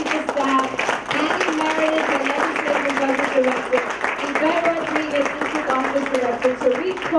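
Audience applause for a New York City Council member's staff at a Queens state-of-the-district event, a steady sustained wash of clapping lasting throughout, with voices mixed underneath.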